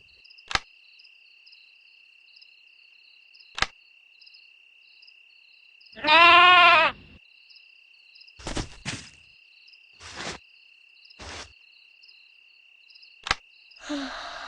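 A sheep gives one loud, quavering bleat close by, standing out against a quiet night backdrop of steady crickets chirping and a few scattered soft clicks and taps.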